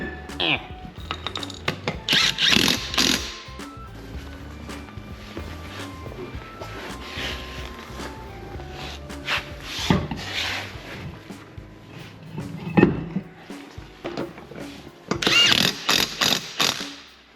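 Ratchet clicking while tightening bolts on a BMW X5 M57 suspension during an off-road lift, bursts of rapid ratcheting separated by pauses and clanks, with someone talking in between.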